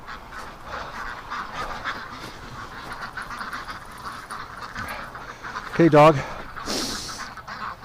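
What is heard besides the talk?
ducks quacking and honking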